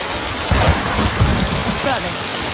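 Rain falls steadily through a storm scene in a film, with low rumbling swells that suggest thunder beneath the downpour, held at a moderate, even level.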